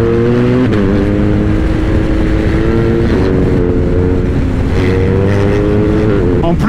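M1250GS motorcycle riding a mountain road, its engine droning loud and close with stepped rises in pitch as it shifts through gears, continuous wind rush over the whole run.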